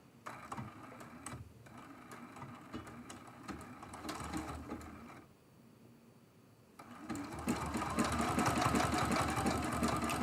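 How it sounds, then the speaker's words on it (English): Sewing machine running a tiny zigzag stitch over quilt fabric scraps, a close rapid mechanical chatter that eases briefly in the middle and then resumes louder and steady. "I want a tiny, tiny zigzag stitch."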